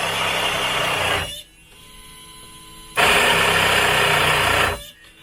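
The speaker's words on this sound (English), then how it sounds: "So there's our boost pump doing its thing." A boat's water boost pump feeding a high-pressure pump runs in two loud bursts of steady electric whine and hum, separated by a quieter pause with a lower motor drone.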